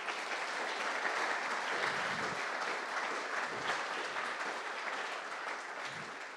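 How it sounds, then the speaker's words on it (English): An audience at a symposium at Parliament claps for the panellists in a sustained, even round of applause, filling the room steadily and tapering only slightly toward the end. "Let's give them one more round of applause."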